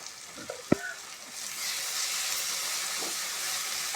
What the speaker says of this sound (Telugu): ఈ టమాటా పేస్ట్ పచ్చివాసన పోయేంత వరకు ఫ్రై చేసుకోవాలి